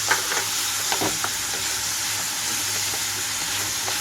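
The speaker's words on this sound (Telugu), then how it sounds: "దొండకాయ కొంచెం సాఫ్ట్గా అయిపోయినాక ఇందులోనే కట్ చేసి పెట్టుకున్న టమాటా కూడా వేస్తున్నాను" Chopped tomato added to softened ivy gourd frying in a pan makes a loud continuous sizzle and hiss, with a few faint clinks and taps at the start.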